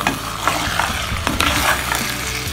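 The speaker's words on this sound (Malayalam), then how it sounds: "നമുക്ക് ഇത് നന്നായിട്ടൊന്ന് ഇളക്കി കൊടുക്കാം" Mutton masala with mosambi being stirred in a kadai, a sizzling fry punctuated by repeated scraping and clinking of the spoon against the pan, close and moderately loud with no speech.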